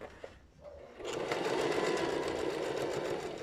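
A sewing machine stitches around an elastic waistband seam, starting after a brief quiet moment and then running as a steady, close, rapid mechanical whir that continues to the end.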